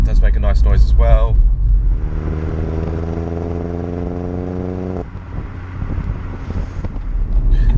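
A Vauxhall Astra VXR Nurburgring engine hums at steady revs after a voice speaks up close, the smooth drone holding several seconds, dipping briefly, then rising again amid wind rumble.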